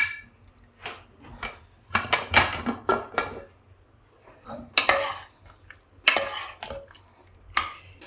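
A pressure cooker of cooked tomatoes, lentils and beetroot being opened, with irregular bursts of metallic clanks and clatters from the lid and utensils, close up and separated by short quiet gaps.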